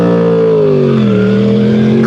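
Car engine revving hard at a traffic light, a loud sustained roar with the pitch dipping and then climbing, close and alone with no talk.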